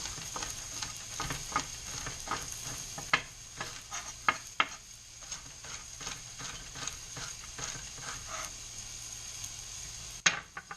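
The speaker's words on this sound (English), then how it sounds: "Mix up the mushrooms and garlic again." Mushrooms and garlic sizzle in a soup pot while being stirred, a soft continuous frying hiss with repeated light scrapes and taps of the utensil, ending in one louder knock.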